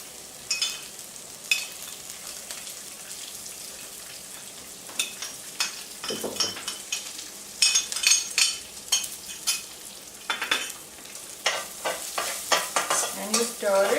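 Grated coconut frying in a pan for Kerala-style koottucurry, stirred with repeated scraping strokes over a steady close sizzle, with no one talking.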